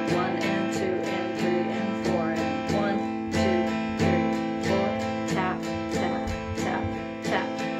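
Steady acoustic guitar strumming with even down-up strokes, a regular eighth-note rhythm played alone at moderate volume.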